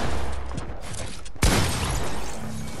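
A sharp burst of gunfire in the video game Fortnite, one loud close shot cracking over a dense, constant game soundscape, with no talking.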